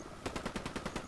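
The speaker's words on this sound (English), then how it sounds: "Stop shooting at me." Automatic gunfire in the game Ghost Recon Wildlands comes as a rapid burst of about eight evenly spaced shots, sharp and fairly close, with no talking over it.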